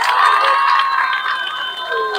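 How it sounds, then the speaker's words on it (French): A large crowd at a public event in the Democratic Republic of the Congo cheers and shouts loudly, with high excited voices sustained throughout and little clapping audible. "je demande à toute la communauté d'applaudir très fort"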